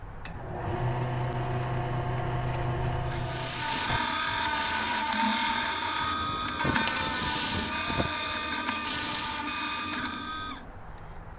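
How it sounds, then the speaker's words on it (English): A steady mechanical whir of a spinning lathe with a drill bit grinding into wood, continuous and close, with a few sharp scraping clicks near the end. "Now I'm going to put it on my chuck and just drill out a center to this really fast."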